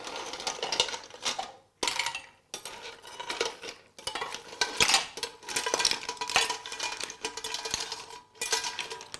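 A metal spoon scoops clam soup with tomato from a pot, giving a run of close clinks, scrapes and splashy ladling with short pauses between scoops and no talk.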